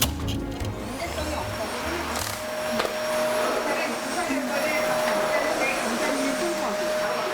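A household vacuum cleaner runs continuously with a steady, loud whirring roar and a faint high whine, with no break for the whole stretch.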